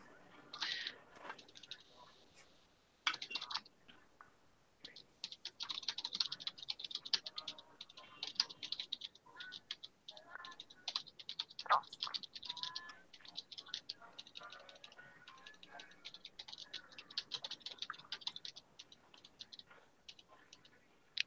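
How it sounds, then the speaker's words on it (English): Rapid, uneven clicking of keys on a computer keyboard, soft and close, continuing in bursts with brief pauses. "I'm not doing so good typing."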